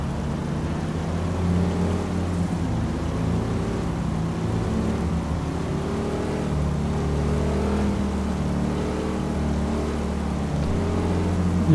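Engine drone of cars driving slowly along a park road in GTA 4, a steady low hum with mild rises and falls in pitch, continuous and fairly close throughout.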